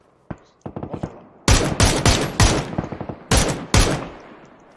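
Gunfire in the battle-royale game PUBG: several sharp bursts of rapid automatic shots, loud and close, with a few lighter single shots before them and no talk over the firing.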